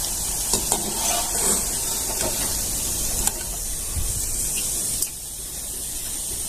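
Paneer jalebi fries in oil over low gas with a close, continuous bubbling sizzle, punctuated by a few sharp utensil clicks and taps before it settles quieter.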